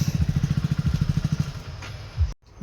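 A motorcycle engine on a village road, close and loud with a steady rapid chugging pulse that cuts off abruptly near the end.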